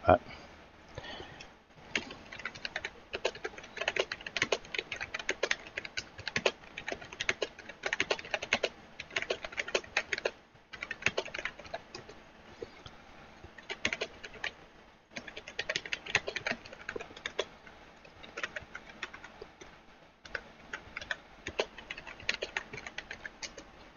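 Someone types on a computer keyboard during a Euro Truck Simulator 2 multiplayer session. Rapid clicking keystrokes come in close bursts, broken by a few short pauses.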